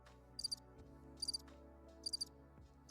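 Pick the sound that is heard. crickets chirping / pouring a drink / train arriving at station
crickets chirping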